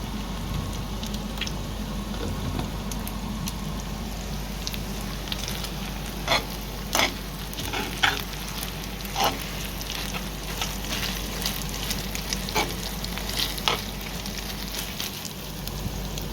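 Minced liver and onions sizzle steadily in a hot pan, a constant crackling hiss with occasional sharper pops and stirring clinks, no voices.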